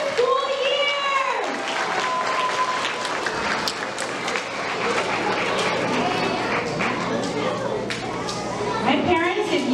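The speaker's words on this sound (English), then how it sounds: "big round of applause for our perfect attendance for the entire school year" Applause at a first-grade school awards ceremony for perfect attendance, a steady wash of clapping mixed with children's voices and chatter from a lively crowd throughout.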